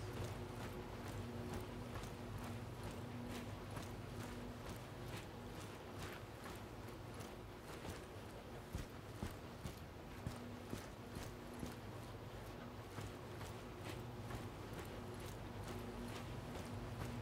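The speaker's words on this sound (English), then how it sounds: "I hear footsteps." Faint, steady footsteps from a tactical first-person shooter game tread in an even rhythm under a constant low ambient hum, with no voices.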